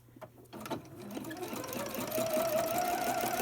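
Sewing machine back stitching seams on a Crown Royal bag being made into a mask, starting after a few soft clicks and building into a steady whirring hum that runs to the end.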